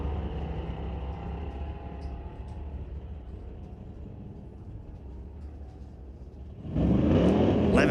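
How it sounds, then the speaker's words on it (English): A 1969 Dodge Super Bee with a 440 engine races at a drag strip, heard as a steady distant drone that suddenly swells into a loud, close roar near the end. "a 1969 Super Bee with a 440 under the hood"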